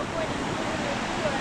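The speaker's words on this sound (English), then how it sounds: "we have to walk through the waterfall now" A waterfall on a hike in Juayua, El Salvador gives a steady, dense roar of rushing water, loud and close, unbroken throughout.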